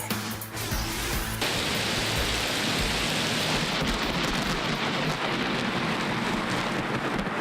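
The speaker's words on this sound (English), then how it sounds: "storms brought rolling thunder and flashes of lightning across southeast Texas" A southeast Texas thunderstorm pours heavy rain in a continuous loud wash while thunder rumbles and rolls through it, a dense, unbroken roar from start to finish.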